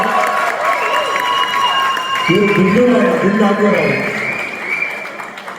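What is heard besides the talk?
audience applause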